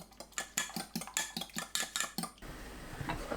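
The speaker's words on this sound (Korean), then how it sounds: "계란 2개 풀어 준비합니다" Two eggs whisked in a bowl, a quick run of sharp, regular utensil clicks against the dish, close and clear, then the beating stops into quiet room tone.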